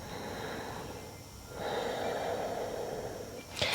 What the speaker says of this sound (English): if you're using that ujjayi breath, it helps you control the rate at which you exhale particularly